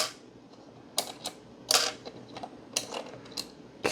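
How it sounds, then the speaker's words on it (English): Small plastic buttons being pried and clicked out of a Mr Christmas jukebox shell, a series of sharp, close plastic clicks and snaps spaced irregularly over a quiet background. "I guess before these fall out, I'll just get these buttons out of here."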